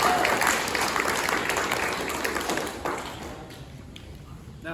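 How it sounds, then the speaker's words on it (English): Audience applause at a scout troop Court of Honor, a steady wash of clapping from a seated crowd that gradually thins and fades over several seconds. "Give them a round of applause, please."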